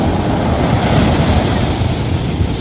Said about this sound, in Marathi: आता हे लाट गेल्याच्या नंतर तुम्हाला दिसेल बघा किती समुद्र खोल आहे